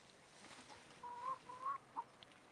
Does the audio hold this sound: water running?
no